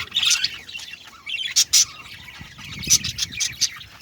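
Budgerigars kept as breeding birds chirp and squawk in a cage, with several sharp bursts of tweets and calls in quick irregular succession, close and fairly loud.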